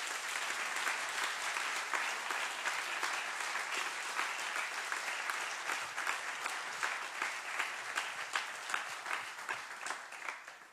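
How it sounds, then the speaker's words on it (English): A church congregation claps and applauds together at a worship service, a dense, steady wash of many hands lasting throughout, with individual claps standing out toward the end as it thins slightly. "would you clap your hands?"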